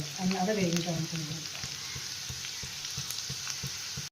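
Onion fries in oil alongside red chillies, a close sizzle under a brief spoken voice at first, then steady crackling with light rhythmic ticks of a spatula.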